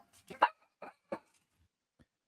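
A dog gives a few short, sharp barks close by: two quick ones, then two spaced yaps and a faint last one, all against silence.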